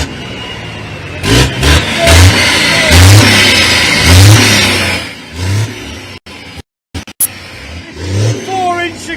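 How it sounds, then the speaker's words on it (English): A turbo-powered racing truck at a Thruxton circuit race meeting revs its engine in loud, repeated surges, with brief dropouts and a commentator speaking over the noise. "some revving of the engine"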